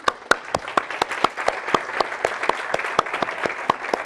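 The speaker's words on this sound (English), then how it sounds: "we need to do a little bit longer round of applause" Conference audience applauds after a programming talk, with sharp individual claps in a steady rhythm over a dense clapping wash, moderately loud and continuous.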